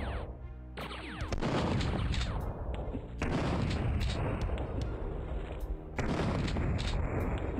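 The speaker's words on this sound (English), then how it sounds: "Oh, there's some turrets." Automated turrets open fire in Duke Nukem 3D, a loud run of repeated blasts and gunfire with sharp onsets at regular intervals, continuing densely throughout with no talk.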